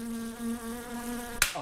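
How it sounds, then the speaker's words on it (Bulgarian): A housefly buzzes close to the microphone, a steady droning whine that wavers slightly in pitch for over a second before a sharp slap-like hit cuts it off. "Каква там муха тук?"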